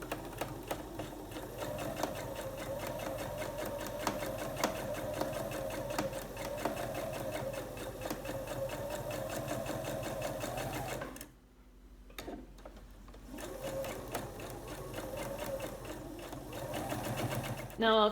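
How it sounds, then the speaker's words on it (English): A sewing machine stitching quilt block pieces, running in a fast steady hum for about ten seconds, pausing briefly, then resuming; a person talks over it. "I'll be sewing right along here, just on the other side of this line"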